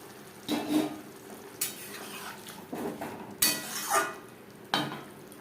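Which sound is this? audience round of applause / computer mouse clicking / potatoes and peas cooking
potatoes and peas cooking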